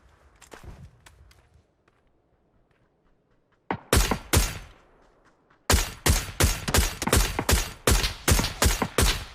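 PUBG Mobile gunfire: a few faint distant pops, then after a quiet gap two loud close shots and a rapid string of evenly spaced, punchy rounds firing alone.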